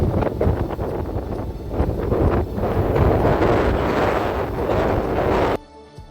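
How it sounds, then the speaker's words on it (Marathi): Strong wind gusting across a hilltop fort at Moroshi, roaring steadily into the microphone as loud, continuous buffeting before dropping away abruptly near the end. "आल्यानंतर खूप मोठ्या प्रमाणावर वारा असतो."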